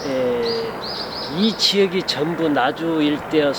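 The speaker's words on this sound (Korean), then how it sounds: "지금도 새소리 들리죠?" Wild birds chirping and calling in a rural garden near orchards in Naju, South Korea, with short bright tweets and cooing scattered through the scene while someone talks over them.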